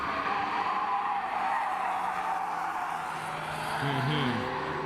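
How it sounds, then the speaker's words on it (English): A Peugeot race car corners hard with its tires skidding and squealing, a sustained loud tire-and-engine roar running through the whole stretch, with a brief rising squeal near the end. "Peugeot pushing hard in the corners"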